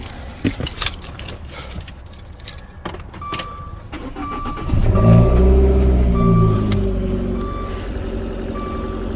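Car keys jangle in several quick metallic bursts early on, followed by a vehicle's repeating warning chime and a low engine rumble once it starts.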